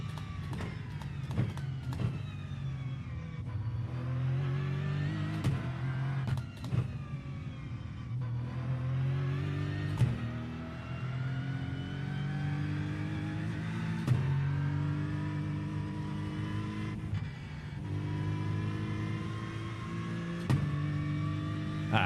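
A race car in the iRacing sim roars steadily at high revs for over twenty seconds, the engine tone rising and falling with throttle and gear shifts, punctuated by brief clicks and bumps.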